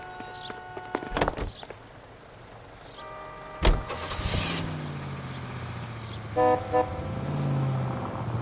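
Car in the video game LA Noire starting up and driving off, with a door clunk, a sharp horn toot and engine revving and pulling away, fairly close and loud with no talk.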